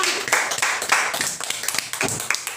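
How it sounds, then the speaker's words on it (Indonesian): A small group claps hands in a classroom lesson, a quick uneven burst of close, bright claps that lasts a couple of seconds. "tepuk tangan untuk kita semua."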